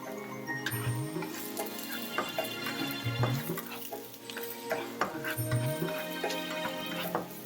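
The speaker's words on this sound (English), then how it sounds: "Get some oil into a hot pan and we're going to saute the onions, the garlic, the rest of the vegetables together with the cauliflower rice" Onions, garlic, vegetables and cauliflower rice sauté in oil in a hot pan, giving a continuous sizzle with repeated stirring scrapes and clinks throughout, with no voices.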